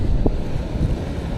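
Strong gusty wind by the sea at Manila Bay buffets the microphone in a steady low roar, with faint water and boat sounds underneath.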